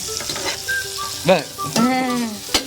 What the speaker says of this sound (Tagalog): Ang bango talaga mga kabene ng ginigisa